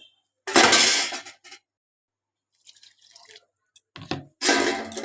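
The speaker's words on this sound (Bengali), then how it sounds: "জল দিয়ে এবার ঢাকা দিয়ে দেবো কড়াইটা" A metal lid set onto a wok of simmering jackfruit curry makes two bright clattering bursts, one early and one at the end, separated by faint scrapes and near silence.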